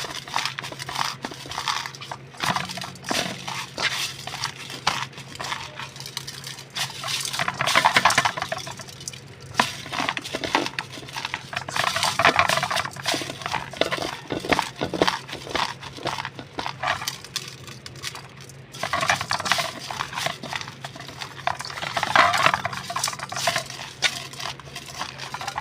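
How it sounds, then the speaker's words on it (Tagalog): Cooked cassava leaves being wrung out by hand, a wet crushing and squelching with dripping liquid in repeated bursts of several seconds each, close and fairly loud with short pauses between squeezes. "Yan, pipigaan ko pa yan para yung kanyang katas mawala."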